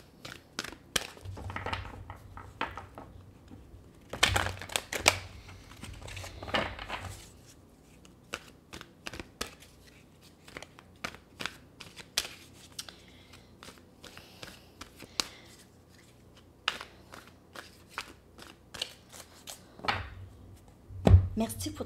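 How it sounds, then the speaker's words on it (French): Angel and tarot cards being drawn and handled produce soft, intermittent shuffling and snapping clicks scattered through the clip, close and fairly quiet, with someone speaking quietly at times. "Je vais prendre 4 cartes des anges et les 4 cartes tarot."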